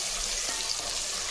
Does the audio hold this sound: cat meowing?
no